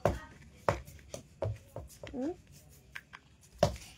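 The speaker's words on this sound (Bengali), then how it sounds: "আমি এই পাতাগুলো আগে কেটে দেব।" A knife chops leaves on a board in a steady series of sharp, close knocks, pausing briefly before resuming, with a voice talking faintly in between.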